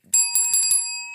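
A bright bell is rung as a podcast sound cue, several quick metallic strikes over about half a second with a long, clear ringing tone that hangs on and slowly fades, heard alone without talk.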